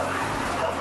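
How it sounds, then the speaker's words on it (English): Several dogs bark and yip in a quick, dense burst, fairly close and loud, with a faint voice in the mix. "This seems like you got a lot of dogs."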